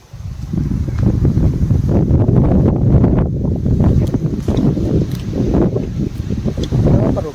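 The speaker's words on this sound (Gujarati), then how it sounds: "હાઈ પવન એવો આવે છે ને જો આ રહ્યું" Strong wind gusts buffet the microphone beside a farm pond in open country, a loud continuous low roar with rushing surges and no talk.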